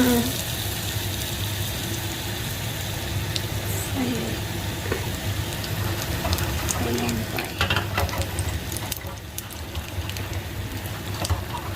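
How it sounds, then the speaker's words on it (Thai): Khanom fak bua batter frying in a mould in hot oil, a steady close sizzle with small crackles throughout, while someone talks over it. "เราจะมาเริ่มทอดกันเลย"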